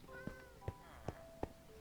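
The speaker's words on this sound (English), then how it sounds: "And there's a cat down here too" Cat in a video game meowing in short, regular calls about every half second, faint and close, with a brief tonal chime in the background.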